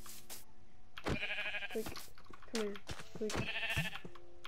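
Wild sheep in a video game bleat in short repeated calls between stretches of excited talk, fairly close and moderately loud.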